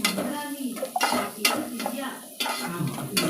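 Green chillies sizzling in a pan as a spatula scrapes and clanks against the metal in quick, uneven strokes, close and fairly loud, for an egg tomato curry.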